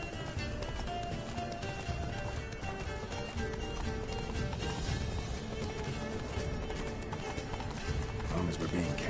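Hooves pound in a fast, steady gallop as the horse Roach runs in The Witcher 3 video game, a continuous drumming rhythm layered with game music and ambience while people talk over it.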